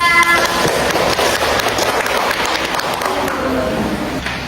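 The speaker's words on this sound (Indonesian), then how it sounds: "Beri aplaus untuk kelompok 3" A classroom group claps and applauds for a presenting student group, a dense, steady burst of hands lasting several seconds.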